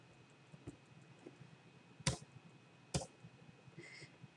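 A computer mouse gives two crisp, distinct clicks about a second apart, near and quiet, over a soft background hum with faint ticks.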